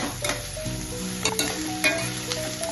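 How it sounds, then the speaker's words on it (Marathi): Cabbage and bell pepper stir-fried in a pan for veg fried rice, a steady close sizzle with occasional scraping stirs of the spatula across the pan, no talk. "शिमला मिरची थोडी भाजली की कोबी टाका। हे चांगलं परतून द्या,"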